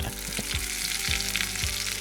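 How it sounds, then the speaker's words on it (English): Steady sizzling of donuts frying in hot oil at 375 degrees Fahrenheit, a continuous crackling hiss with a few soft low bumps, no voices. "They sizzle in the oil for 45 seconds."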